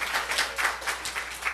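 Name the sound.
church congregation applauding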